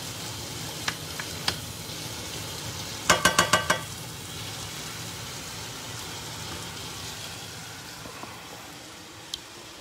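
Mushrooms, onions and lardons fry in a pan with a soft, steady sizzle, broken by a few light clicks and a quick burst of spoon taps on the pan near the start.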